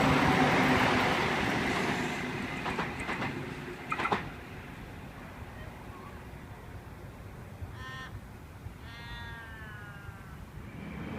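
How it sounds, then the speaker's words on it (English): A Sydney Trains Hunter set pulls into platform 1 at Wickham on a Maitland service, opening with a loud broadband rumble that fades as it slows, followed by thin, high wheel or brake squeals near the end. "Got Hunterset J6 arriving into platform number 1, Maitland service."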